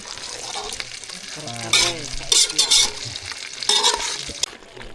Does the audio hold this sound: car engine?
no